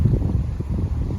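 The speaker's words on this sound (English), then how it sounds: "lot of windy today" Strong wind at a lakeside picnic spot in Chicago buffets the microphone as a loud, steady low rumble, with no other clear sounds.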